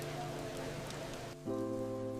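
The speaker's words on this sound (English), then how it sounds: "Heavy sheets of rain lashed against the massive glass windows of The Blueprint" Heavy rain lashes against the massive glass windows of a café in a steady, dense patter, with sustained soft tones running beneath it and a short dip before the downpour continues.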